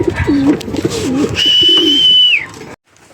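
Pigeons coo repeatedly in a loft, low warbling calls close by, with a sustained high whistle-like tone running through the middle of the sequence before falling quiet.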